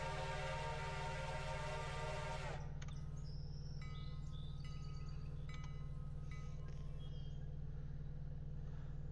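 A Reading 6-chime steam whistle sounds loud and steady in the Railroader train game, a rich chord held for about two and a half seconds before cutting off, leaving a low locomotive rumble and faint clanks.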